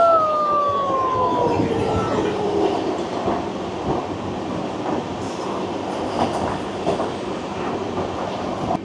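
A Tirupati–Secunderabad Vande Bharat Express train passes close by, a loud steady rushing roar with a falling horn tone at the start and continuous rail clatter throughout.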